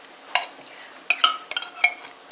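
A hard utensil scrapes and clinks against a pan while mixing a hashbrown and beef casserole: a handful of sharp, bright scrapes and taps in irregular bursts, close up, with quiet gaps between.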